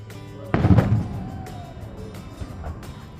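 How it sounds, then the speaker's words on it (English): A single loud firework boom bursts out, then rolls and echoes away slowly off surrounding mountains and hills near Cripple Creek, followed by fainter distant pops. "The boom of the fireworks sounded louder than usual since the noise echoed off of the mountains"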